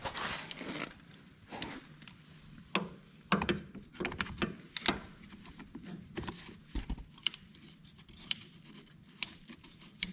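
A ratchet tightens the drain plug on a Yamaha Moto 4 ATV, making quiet, close, intermittent clicks and sharp mechanical ticks spread unevenly over several seconds, with no voices.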